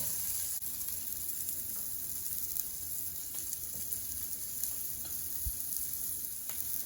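Shrimp sizzling in a pan over a medium flame, a steady close frying hiss with faint crackles and pops throughout, no voices.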